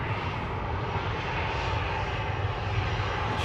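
A KLM airliner taxis at Manchester Airport with a steady, continuous engine drone and whine, moderately loud and unchanging, with no voices over it.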